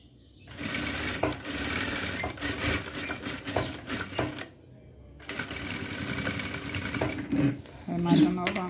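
A sewing machine stitching a pocket onto a blouse runs in bursts of fast, rattling needle chatter with brief pauses, close and fairly quiet, while someone talks over it.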